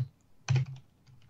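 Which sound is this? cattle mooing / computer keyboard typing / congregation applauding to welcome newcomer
computer keyboard typing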